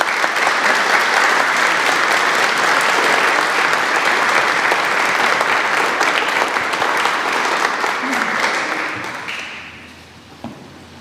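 Loud, sustained applause from an audience greets a priest arriving to give a lecture, then fades away toward the end.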